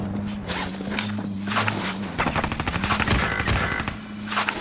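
Rapid automatic gunfire in the shooter game Warzone rattles loudly through the middle of the clip, with footsteps and other battlefield noise around it.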